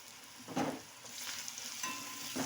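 Onions fry and sizzle steadily in a pan for an egg masala fry, with a few distinct scraping stirs of a spoon cutting through the hiss, close and fairly quiet.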